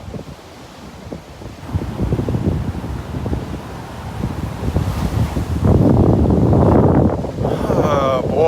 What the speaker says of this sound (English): There are some people out there swimming out in the waves.